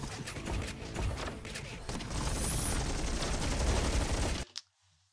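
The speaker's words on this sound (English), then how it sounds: "This shot of what we formerly thought was a siege tank takes quite some time" A siege-style tank unit fires in the strategy game Stormgate amid dense battle noise: a sustained, loud barrage of overlapping blasts and crackles that cuts off abruptly near the end.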